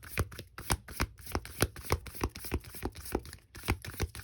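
A deck of cards for a reading is shuffled in quick, crisp riffling bursts, each flutter of cards snapping close and loud in a steady, repeating rhythm.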